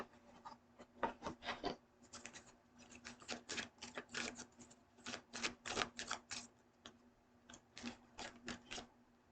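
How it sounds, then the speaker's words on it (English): Oracle cards pulled and shuffled from a deck, a quiet close run of quick papery flicks and rubs in irregular bursts. "Let me pull out a couple more cards."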